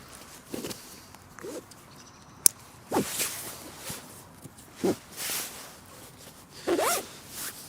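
Side straps on an Atom roll-top backpack are cinched tight in a series of short, rasping pulls of webbing through buckles, close up and quiet, with brief gaps and a sharp click in between.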